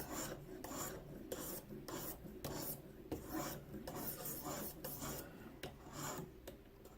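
A knife blade drawn repeatedly across an abrasive on a ViperSharp guided sharpener, close rhythmic rasping strokes about every half second, steady and alone.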